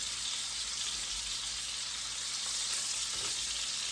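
Potatoes, sausage and mushrooms fry in a pan with a steady, close hiss and sizzle that holds level throughout, with faint stirring and no voices.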